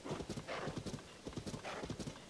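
Horse hooves in Zelda: Tears of the Kingdom, a close, steady clip-clop gait with a quick even rhythm of hoofbeats carrying on without break.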